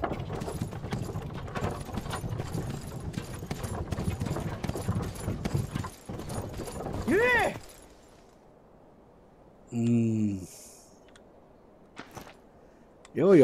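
Horse hooves in the Myth of Empires video game clip-clop quickly and continuously for several seconds, then give way to a few separate, louder horse calls spaced through the quieter remainder.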